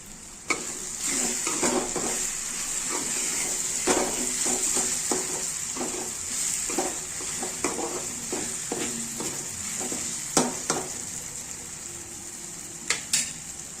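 Egg bhurji frying in a pan, a constant bright hiss under frequent short scraping strokes of a spatula stirring the scrambled egg, close up, with no talking.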